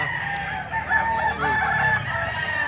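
A Tasmanian rooster crows close by, a long drawn-out call with steady harmonic tones, alongside clucking from other fowl and a constant low background hum.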